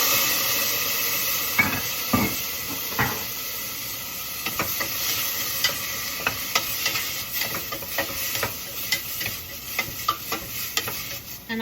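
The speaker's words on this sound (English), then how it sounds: "So we put the bamboo shoot in first. Carrots, because carrots also need a long time to cook. I can add some cooking wine." Bamboo shoots and carrots stir-frying in a hot pan with cooking wine added, a steady loud sizzle and hiss with scattered clacks of a spatula against the pan throughout, no talking.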